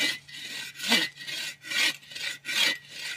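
A hand saw cuts through wood in five steady back-and-forth strokes, close by and rasping, with nothing else heard.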